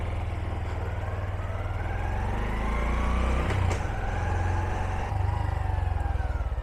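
A 2023 Honda Trail 125 motorcycle clicks into gear and pulls away. Its small single-cylinder engine gives a steady, rhythmic putter that rises as it accelerates, close by and moderately loud.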